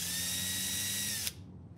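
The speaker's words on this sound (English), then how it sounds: "I'm just going to pre-drill a hole for those screws to go into." A power drill pre-drills a screw hole in a door while a swing-out bin is fitted, whirring steadily and close for over a second before stopping abruptly.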